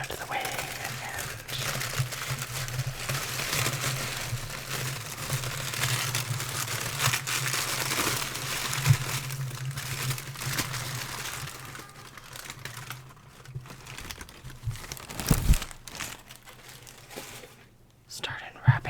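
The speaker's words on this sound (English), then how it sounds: "start unwrapping." Cardboard and paper wrapping around a well-packaged parcel of Diamine inks crinkle and rustle steadily up close, with a few sharper tearing crackles and a louder burst near the end.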